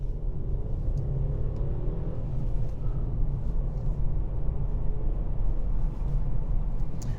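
A small 1-litre engine in an Audi A1 30 TFSI hums steadily at low pitch, a constant droning rumble heard from inside the moving car, with no talking.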